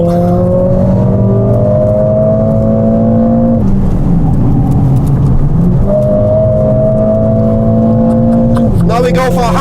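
A Mercedes-AMG car driving fast on the Nürburgring with an automatic gearbox, its engine droning loud and close at high revs, with two gear shifts marked by sudden pitch drops.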